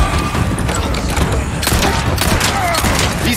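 Rocket launcher fire and blasts in the Resident Evil 4 Remake, loud dense explosive bursts and crashing impacts layered over a busy game soundscape, with a louder boom about midway.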